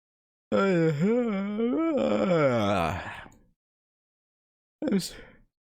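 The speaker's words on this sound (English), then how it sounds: "The fake yawn made me have to actually yawn." A person gives a long, drawn-out yawn with a rising and falling moan, then a short second yawn after a pause. The yawns are close and loud, with no other sound.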